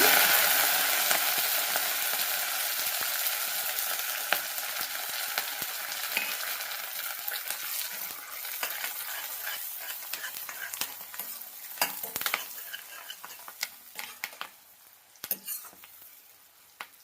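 Sliced onion, green chillies and curry leaves fry in hot oil with cumin and mustard seeds, a dense close sizzle with repeated scraping stirs and spatula clinks against the pan, gradually quieting.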